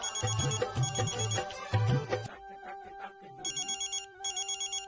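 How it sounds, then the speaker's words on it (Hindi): A telephone rings in a domestic drama scene, first as loud, dense repeated trilling bursts, then as a softer, steadier electronic ringtone pulsing in regular short bursts. "फोन उठावे में इतना टाइम काहे लगल?"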